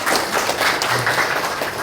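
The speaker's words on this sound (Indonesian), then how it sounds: "Tepuk tangan buat kepada Ibu semua." Audience applause at an audit entry meeting for kindergarten, primary and junior secondary school funding, a steady dense wash of clapping filling the room with no talk over it.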